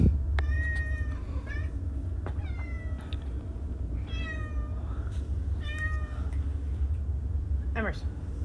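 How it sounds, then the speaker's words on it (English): A kitten meows repeatedly, with high, wavering cries spaced a second or so apart over a steady low background hum, fairly close to the microphone. A person can be heard talking now and then. "Oh, kitten."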